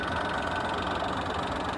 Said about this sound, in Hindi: आप इसकी इंजन वॉइस चेक कर सकते हैं बाहर से कैसी है